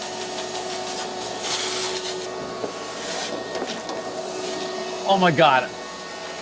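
A vacuum cleaner drones steadily while sucking up debris during a DIY bathroom install at a lighthouse, with a rattling clunk as a chunk of broken sink is pulled in, followed by a short burst of speech near the end.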